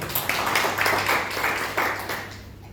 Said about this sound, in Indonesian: Boleh beri tepuk tangan buat Tuhan?